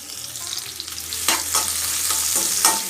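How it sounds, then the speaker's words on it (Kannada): Garlic, onion, curry leaves and pepper fry in hot oil in a pan, giving a steady close sizzle with a few louder stirring scrapes near the end, no voices. "ಇದನ್ನ ಒಂದೆರಡು ನಿಮಿಷ ಫ್ರೈ ಮಾಡ್ಕೊಳ್ಳೋಣ ನಾವು ಜಾಸ್ತಿ ಫ್ರೈ ಬೇಡ ಒಂದೆರಡು ನಿಮಿಷ ಫ್ರೈ ಮಾಡಿಕೊಂಡ್ರೆ ಸಾಕು"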